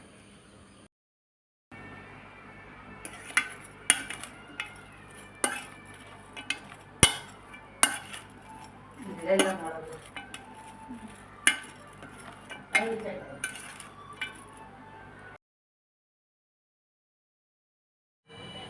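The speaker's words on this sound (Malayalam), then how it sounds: "എല്ലാം കൂടെ നന്നായിട്ട് മിക്സ് ചെയ്യാം" Sliced onion with green chilli, salt and vinegar is stirred in a bowl with a spoon, giving irregular clinks and scrapes of utensil on dish, some sharp and close, with short silent gaps at the start and end.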